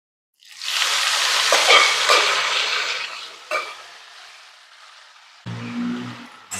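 Beetroot with masala sizzles loudly in hot coconut oil for a beetroot sukka. A strong frying hiss rises at once, then slowly fades, with a few stirring scrapes and clinks toward the end.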